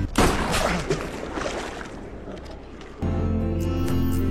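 Gunfire in the film Sisu: a loud burst of shots at the start decays into rumbling echoes, then cuts to a sustained low droning scene sound.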